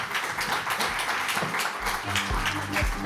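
Audience applause at a communications summit greets a speaker invited on stage, a steady wash of many hands clapping throughout, with a low voice briefly murmuring underneath near the end.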